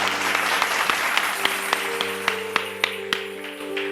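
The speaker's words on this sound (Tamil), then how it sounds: "கையை தட்டு, கையை தட்டு, கையை தட்டு" An audience at a Tamil church gathering claps together in a steady rhythm, with sharp evenly spaced claps rising above a dense wash of applause and a sustained musical tone underneath.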